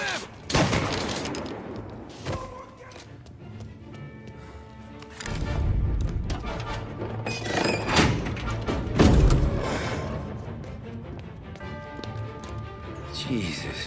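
Gunfire from the Mafia Definitive Edition video game, a burst of loud thumping shots and heavy impacts scattered across the scene, mixed with voices and other in-game action.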